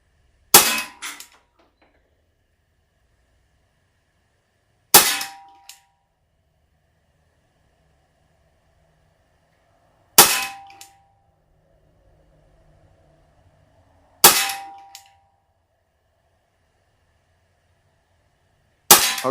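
A Crosman Vigilante CO2 pellet revolver fires five sharp shots, spaced about five seconds apart. Each crack is followed by a faint short ring, with quiet in between.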